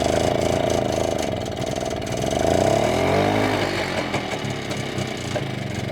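A BSA Bantam motorcycle engine runs steadily after starting, a close, loud, continuous two-stroke idle with slight swells in revs, no talk over it.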